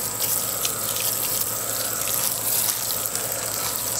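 Water pours steadily onto newly sown lettuce seeds in a garden bed during fall planting, making a continuous close hiss and splash with no pauses and no voices.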